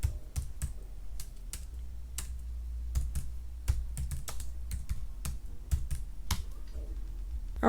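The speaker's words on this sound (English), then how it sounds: "I type in license plate." Fingers type on a computer keyboard, entering a search into a product page: a run of crisp, irregular key clicks close by with short pauses between bursts, and no voices.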